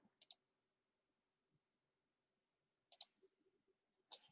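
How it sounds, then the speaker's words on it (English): Three faint, crisp clicks come about a second or more apart as a book is opened in the Sora eLibrary app, with near silence in between. "if I'm finished reading it, I can click on it"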